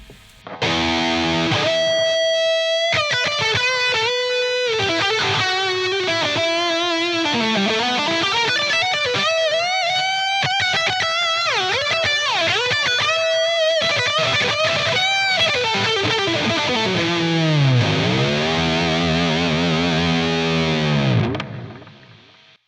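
A distorted electric guitar solo plays through a Marshall JCM 800 (Brit 2204) amp model on a Line 6 Helix, with high drive and effects. Sustained bends, vibrato and fast runs sound loud and continuous for about twenty seconds before fading out.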